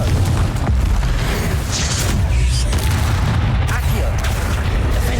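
Confringo spell explosions in the Hogwarts Legacy video game, deep booming blasts with crackling bursts over a dense, loud combat din, with a character's voice calling out during the fight.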